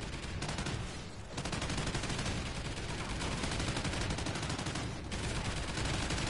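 Automated sentry gun turrets in a cooperative video game fire in a dense, continuous rattle of rapid shots that runs unbroken throughout, loud and close, with only brief dips in the barrage.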